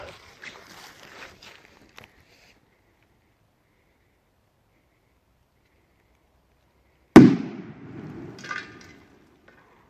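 After a stretch of near silence, a single sharp, loud bang erupts as an old Achtung P1208 firecracker explodes under a light pot on mud, followed by a brief scattering rumble and clatter as it fades.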